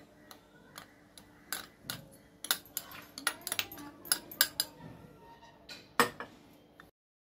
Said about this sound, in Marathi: आता आपण साहित्य याच्यात मिक्स करून घेऊया।